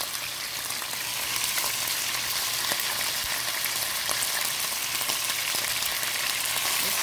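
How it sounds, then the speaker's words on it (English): Ground beef sizzling and frying in hot oil in a pan, a steady dense crackle that swells after the first second and stays loud with occasional sharp pops. "So now I'm going to go ahead and add this beef in here."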